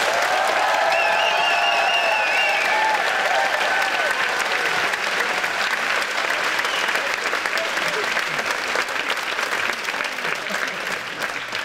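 A short film festival audience breaks into loud, sustained applause with scattered cheers and whistles that fill the room for several seconds, with voices rising above the clapping at the start.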